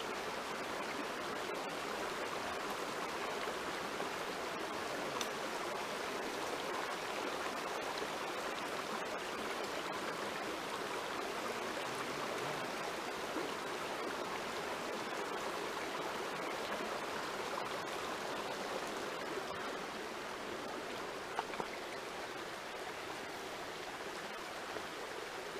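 A fast-flowing mountain brook trout stream rushes steadily, a dense, even roar of water heard close up. It holds constant for about twenty-five seconds with no talking.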